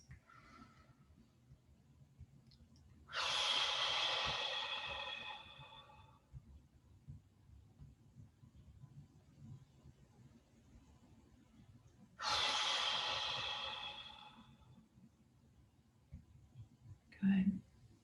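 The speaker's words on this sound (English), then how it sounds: "a couple of nice deep breaths," Two long, deep exhaled breaths during a guided relaxation breathing exercise, each lasting a few seconds and separated by quiet, with a brief softer breath near the end.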